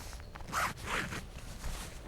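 A green zipper on the chest pocket of a waterproof mountain jacket is pulled in two quick, close rasping strokes against a constant background hiss.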